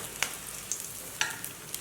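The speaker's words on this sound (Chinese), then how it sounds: "等黄油融化之后，放入吐司煎制。" Toast slices frying in melted butter in a pan, a soft steady sizzle with a few faint clicks and scrapes at intervals, quiet and without voices.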